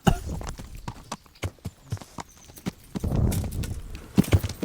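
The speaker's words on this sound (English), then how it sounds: "Am I not able to get this horse down this fucking ridge?" Horse hooves clip-clop unevenly down a ridge in Kingdom Come: Deliverance, a run of close, scattered thuds with a brief whinny, the steps growing heavier and denser toward the end.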